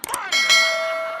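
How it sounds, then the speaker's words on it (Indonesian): A telephone rings in a comedy sketch: a few quick knocks, then one loud, bright metallic ding that holds a steady tone and slowly fades, close and clear. "Telepon bunyi."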